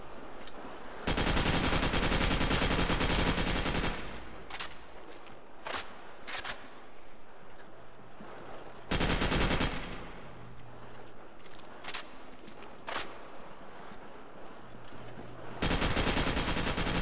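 Video game gunfire from Call of Duty: World at War custom zombies mode, several loud sustained automatic bursts alternating with single sharp shots and quieter gaps.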